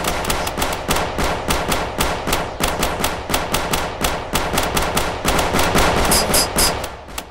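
Rapid bursts of gunfire from the video game Road to Grambys ring out in a steady, closely spaced rhythm throughout, loud and near, with a brief high electronic chime near the end and no talking.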